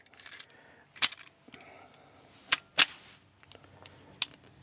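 Gunfire from a Rock Island 1911 pistol at a range, four sharp single shots spaced irregularly over a few seconds, fairly distant and moderate in level, with faint background noise between them.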